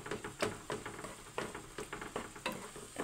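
Creamy salted milkfish (bangus) cooks in a pan with a steady, soft sizzle and bubbling, broken by occasional scrapes of stirring, close and quiet with no voices.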